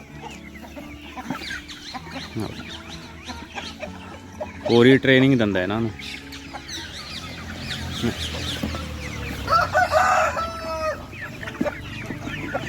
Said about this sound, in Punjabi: ਮੁਰਗੇ ਨੇ ਬਾਈ ਸਾਰੇ ਬੁਲਾ ਲਏ